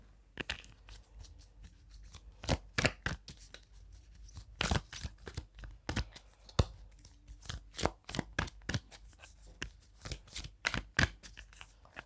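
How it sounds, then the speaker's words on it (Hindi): Tarot cards are shuffled and pulled for a love reading, giving a quick run of crisp, close papery snaps and riffles in irregular bursts with short pauses between, with no talking over them. "उससे भी मैं कार्ड्स पुल करना चाहूँगी"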